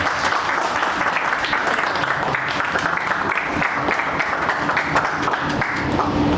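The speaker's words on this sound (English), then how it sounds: "So a huge round of applause for you guys." An audience at a GATE rankers meet breaks into sustained applause, loud dense clapping from many hands filling the hall continuously and evenly without a break.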